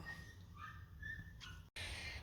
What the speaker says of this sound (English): My puppy's been doing a lot of crying